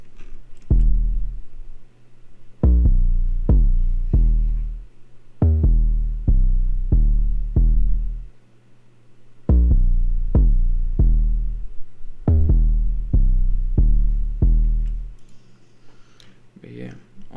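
Soloed 808 bass from a type beat, booming sub notes in a repeating pattern of decaying pitched hits with brief gaps, loud and dry, ending in a faint tail.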